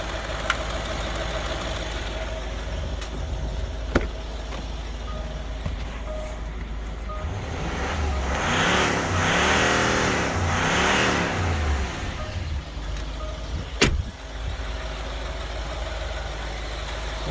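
A Range Rover 3.6 TDV diesel engine, recently fitted with new EGR valves, idles steadily and then rises into a sustained rev in the middle before settling back to idle, with a sharp knock near the end.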